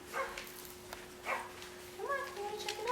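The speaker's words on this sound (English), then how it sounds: "Look, there's a barking dog" A dog at clicker 'leave it' training gives a few short barks and yips spaced across the moment, fairly close, with a steady electronic hum underneath and a bit of talk.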